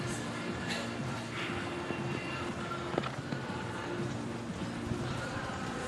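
Horse cantering in a show jumping arena, hooves thudding in a steady rhythm under continuous arena crowd noise and a commentator's voice, with a brief sharper knock near the middle.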